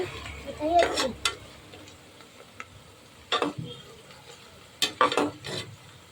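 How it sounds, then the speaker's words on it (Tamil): Onions sautéing in oil for chicken biryani, a soft background sizzle broken by a few clattering stirring strokes and clicks, some close and louder, with quiet gaps in between. "வெங்காயம் பாருங்கள் ஃப்ரெண்ட்ஸ், நல்லா வதங்கிட்டு இருக்கு"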